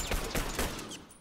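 A bomb goes off in The Last of Us multiplayer amid gunfire: a quick run of loud, close blasts and bangs that fade into a decaying rumble over about a second.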